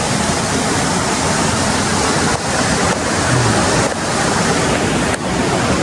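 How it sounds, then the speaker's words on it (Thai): A flowing stream beside a cafe's lodging in Sapan village rushes steadily and loudly, a continuous broad wash of water noise with no voices. "ระหว่างทางเดินที่พักก็มีลำธารลงไปเล่นน้ำได้ด้วย"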